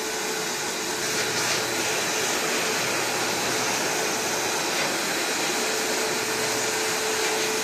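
A body dryer blows warm air in a continuous, even rush that stays constant and fairly loud for the whole stretch, close by and without speech.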